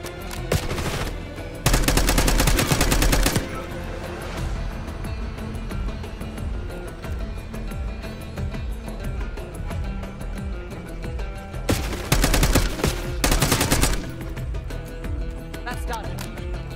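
Automatic gunfire in Call of Duty: Black Ops 6 at Dry Lake. Two loud, dense bursts run for about a second and a half each, separated by a long stretch of steady game noise.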